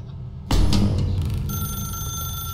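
A telephone in The Stanley Parable video game rings with a sudden loud bell burst that then keeps on as a steady electronic ringing tone, alone with no talk.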